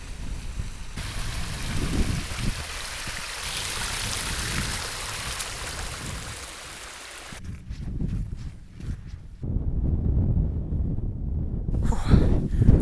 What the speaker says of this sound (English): there is some water running in the river now